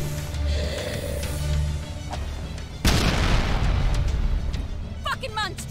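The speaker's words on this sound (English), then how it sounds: "What about grenade?" A grenade goes off in the video game ELEX II with a sudden loud, broad boom that rolls into a rumbling tail, following a stretch of game ambience and low droning, with a brief voice at the end.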